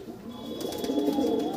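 A male pigeon for sale, shown with a female available as a pair, coos in low, rolling bursts. The sound is steady and moderately close, with no talking over it.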